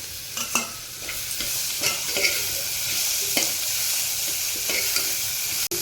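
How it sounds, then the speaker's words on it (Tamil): Green chillies and dried red chillies fry with onions in a pan, giving a close, loud, constant sizzle broken by repeated scraping stirs, with no voices. "இப்போ நான் பச்சை மிளகாவும் வரமிளகாயும் போடுறேன்."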